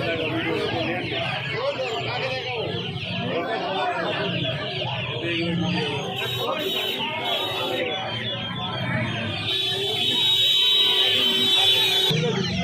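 Poultry at the Uluberia hen market, with Australian chicks and ducks for sale: continuous bird chatter and clucking rise and fall throughout under nearby talk, with a shrill, sustained chirping chorus swelling toward the end.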